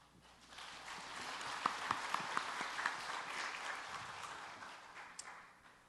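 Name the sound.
audience applause in church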